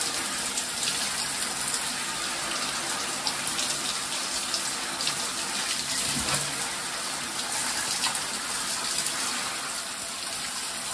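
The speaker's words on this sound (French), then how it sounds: "T'as vu, on fait la douche?" Shower water runs steadily while a rabbit is washed at a refuge, a continuous broadband hiss and splash of spray like an open faucet, close and even throughout with no talking.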